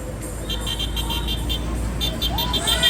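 Many car horns honk in dense traffic as short repeated toots over a steady road rumble, with people talking in the background.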